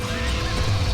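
Horse neighing loudly in God of War, from the mount of the barbarian king Ulrich as he charges on horseback; a single strong whinny, close and alone, lasting under a second.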